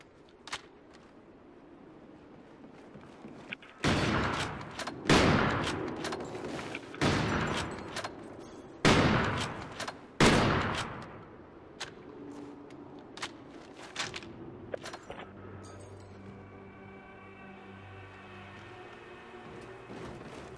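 Several sharp, loud sniper rifle shots in Call of Duty Ghosts, spread over a few seconds with short ringing tails, followed by quieter game sounds and tones.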